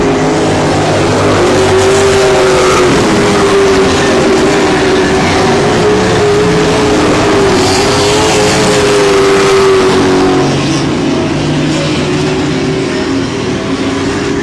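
Stock race cars roar around the I-37 Speedway oval with a steady, loud engine drone and rising and falling pitch as the pack passes, while an announcer is nearly buried under the engines.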